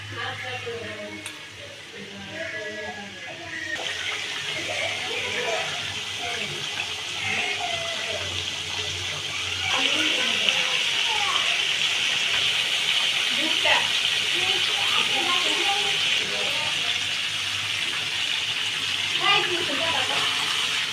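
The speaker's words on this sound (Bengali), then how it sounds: "ভালো করে উল্টায় পাল্টায় মুরগিটা ভেজে নেব" A whole chicken fries on a gas stove, making a constant hissing sizzle that swells louder midway, with someone talking over it at intervals.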